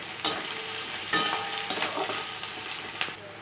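Tomato goes into a pan of sizzling onion and garlic, with a steady hiss of frying throughout and sharp stirring clatters and spatters popping up now and then, close and fairly quiet.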